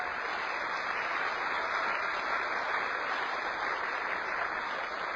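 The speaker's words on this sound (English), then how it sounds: "Now, a round of applause to the vegetables." Sustained audience applause fills a lecture hall, a dense, even wash of clapping that holds at steady loudness for about five seconds with no voices over it.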